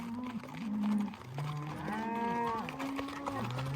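Cattle moo over and over, several deep, drawn-out lowing calls overlapping from a herd nearby, some rising into higher bellows, with no talk over them.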